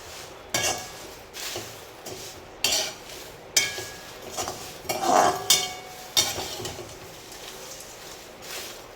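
Whole spices including cinnamon pieces dry roast in a pan over low gas, stirred with a utensil that scrapes and knocks against the metal in repeated bursts, with a faint bird cooing in the background.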